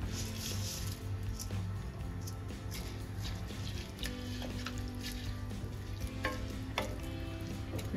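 Soaked, drained basmati rice is mixed into a pot of vegetable biryani, with a continuous soft sizzle under repeated wet scraping and stirring strokes, heard close up.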